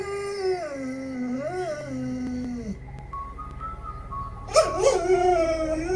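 A frightened dog whines and howls in long, wavering high-pitched cries that rise and fall, close and fairly loud, breaking into a sharper, strained yelp near the end; no voices are heard.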